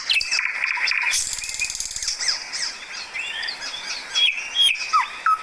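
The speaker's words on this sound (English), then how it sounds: "Here is also another bird who is making sound." Several birds chirp and call in quick, overlapping bursts, bright and fairly close, with a busy trilling stretch near the start.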